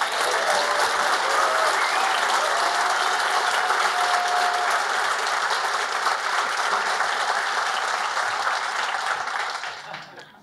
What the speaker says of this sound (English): can we have a round of applause for a great talk from a first-time international speaker?